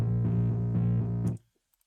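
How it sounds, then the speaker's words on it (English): A sustained, heavily distorted bass tone from Waves R-Bass in FL Studio plays loudly, then cuts off abruptly, leaving near silence with a couple of faint ticks. "and then a little bit of distortion"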